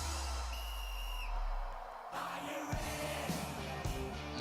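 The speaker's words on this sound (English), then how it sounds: "You hear the whistle blow." A sustained whistle tone within rhythm dance program music at the 2026 Canadian Figure Skating Championships, a held pitch over arena sound before the music shifts into a punchier rhythmic section.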